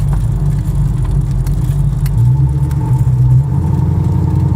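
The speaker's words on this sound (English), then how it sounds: "Exhaust sounds really nice, shifts really nice and smooth there into third." Low, rumbling exhaust of a 1935 Ford flatback sedan with a 350 small-block V8 and automatic transmission while driving, a steady throaty drone with a brief dip and change in pitch as it shifts gear, heard alone.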